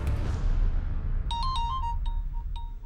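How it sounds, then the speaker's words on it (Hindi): A mobile phone ringtone plays in a home, a bright melodic chime pattern of short repeated notes entering partway through over a low rumbling background. "पापा आपका फोन बज रहा है।"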